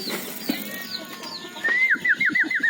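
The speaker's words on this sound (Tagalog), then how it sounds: "Ang dami ng kalapati" Pigeons coo in a backyard where hens are kept, starting faint and swelling into a quick rhythmic series of close coos near the end, with no talk over them.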